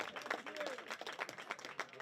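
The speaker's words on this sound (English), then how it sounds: "And Wade Sorrell gets a huge round of applause." Crowd applause at a high school boys soccer senior night as a player is substituted off, a faint, distant wash of clapping with some sharper individual claps, steady throughout.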